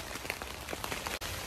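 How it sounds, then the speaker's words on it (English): Rain falling and pattering steadily on a surface nearby, a dense continuous hiss with scattered drop taps, no voices. "You can hear the rain."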